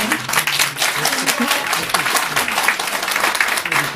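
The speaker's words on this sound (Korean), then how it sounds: "이번 유머 특강을 해주신 김용진 교수님께 큰 박수 부탁드립니다." An audience at a humor lecture applauds the professor with loud, dense, steady clapping that fills the whole stretch without a break.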